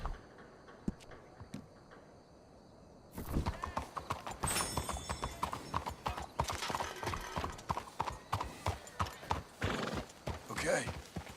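Horses from Red Dead Redemption 2 gallop with steady clip-clop hoofbeats and whinny loudly, the sound building suddenly after a quiet opening and continuing busy to the end.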